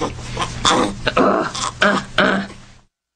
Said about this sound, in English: this is the coughing, grunting kid